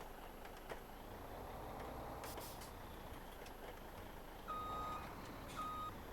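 A truck in Farming Simulator 17 sounds two short, steady reversing beeps about a second apart near the end. They sit over a faint, quiet background rumble, with no voices.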